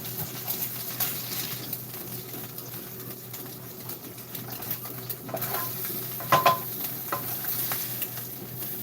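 Salmon stuck to an overheated cast iron skillet is stirred and scraped with a spatula. Soft sizzling runs under uneven scrapes and a few sharp metallic knocks near the end, all close by, with no talking.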